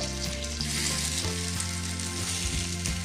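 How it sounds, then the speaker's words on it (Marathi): Mixed bangda fish sizzles loudly as it fries in a pan, a steady close hiss of hot oil with faint clinks as the pieces are turned, and no talking. "तर आता ही दुसरी बाजू जी आहे ती पण आता आपण फ्राय करून घेऊ"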